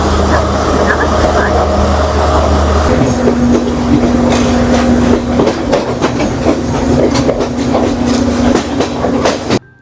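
A first-class train in Sri Lanka rolling along with a loud, steady rumble and rhythmic clickety-clack of wheels on rails, a low drone shifting partway through and voices in the carriage.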